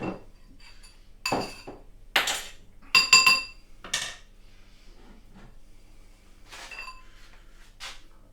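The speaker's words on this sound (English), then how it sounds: "Let me take them spoons out so I can show you" Metal spoons are lifted out of bowls of instant and Quaker oats, giving about half a dozen bright clinks and knocks in irregular bursts, with quiet gaps between them.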